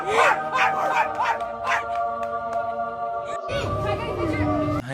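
A dog makes whining, howl-like vocal yips and whimpers, close and fairly loud, mixed with chatter and another voice that seems to imitate the dog's howling.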